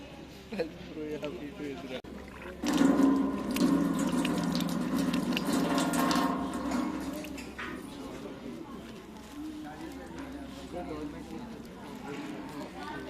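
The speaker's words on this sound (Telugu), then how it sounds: "ప్లేట్స్ మనకి ఇక్కడ హాట్ వాటర్ వేశారు" Hot water splashes and pours over plates for a few seconds, fairly close, at a temple's free meal hall, with voices and background chatter around it.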